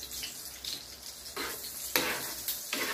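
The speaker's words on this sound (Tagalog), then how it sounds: "At ipa-fried na po natin itong beef." Beef fries in butter and a little oil, giving a soft, steady sizzle broken by a few brighter bursts of spattering as the pieces are stirred and turned in the pan.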